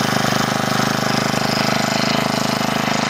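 A GeoTech GT-4 36 BP multifunction brush cutter engine runs steadily nearby, a loud, even buzzing drone with a fine rapid pulse and no voices over it.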